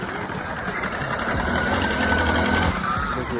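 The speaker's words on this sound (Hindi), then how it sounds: "ये देखिए बाइक उतर रही है नीचे" A motorcycle, an N160, creeps downhill over a rough off-road track, its engine buzzing steadily and closely in a fast, even, sewing-machine-like patter.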